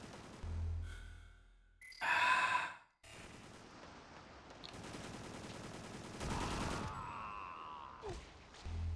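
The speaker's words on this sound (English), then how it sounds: "Yeah, I knew missiles were coming." Missiles fire during a video game final boss fight, with bursts of rapid blasts and whooshing impacts that come in uneven clusters over a low background, fairly quiet overall.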